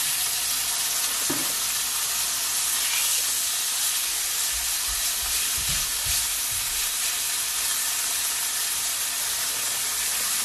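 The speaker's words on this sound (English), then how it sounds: "So now we're gonna put them inside the cast iron." Thin pork chops seasoned with salt sear in a cast iron pan, a steady loud sizzle and hiss filling the whole stretch with a few low thumps and clatters near the start and middle, no talking.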